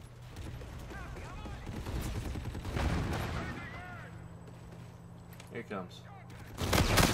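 Akimbo Hornets guns firing in a video game, rapid dual bursts of automatic gunfire in sustained volleys with a final loud flurry, while someone talks over the shooting.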